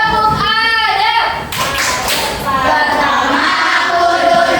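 A classroom of children performs a rhythmic clapping chant, quick patterned hand claps and taps mixed with young voices singing together, loud and close in a busy room.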